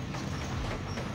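A train rumbles past steadily in the Sonic Adventure 2 video game, a dense continuous roar with a faint rhythmic clatter throughout, fairly close and without voices.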